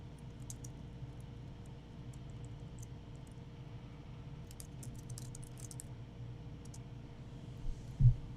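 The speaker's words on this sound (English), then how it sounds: "I'll type in my own response here." Faint, irregular bursts of typing on a computer keyboard in a quiet room, soft clicks clustered in short runs with pauses between them.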